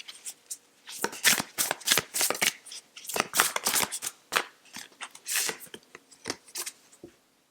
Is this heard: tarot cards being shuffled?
yes